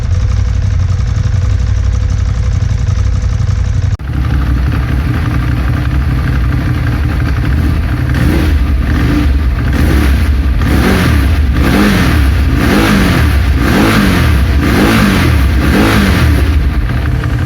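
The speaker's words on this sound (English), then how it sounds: "the L-twin motor sounds very bassy and has a heavy grunt" A stock-exhaust Ducati Monster 821 L-twin engine idles with a deep, bassy rumble, then revs in a series of repeated throttle blips, each rising and falling with a heavy grunt, close and loud.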